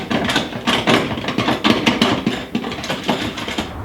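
A 10mm ratchet spanner tightens bolts on a Tuff-Trek awning fitting, a close, loud run of quick clicking ratchet strokes with knocks of metal on the mount.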